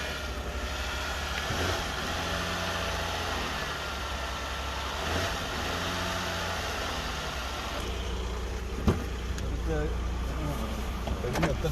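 An imported US car at a repair shop runs at a steady idle, a continuous low engine drone with a brief rev near the end. Someone talks over it.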